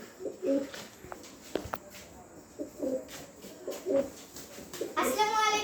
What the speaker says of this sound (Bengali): এখানে একজন মর্ডেনা কবুতর আছে, এখানে একজন লাক্ষা কবুতর আছে